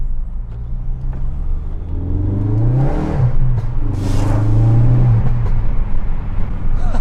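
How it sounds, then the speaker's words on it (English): A 2016 Ford Focus RS hot hatch accelerates hard in second gear on a country road, heard from inside as a loud, rising engine and turbo drone with a brief gear change. "we're going to go for a little second gear"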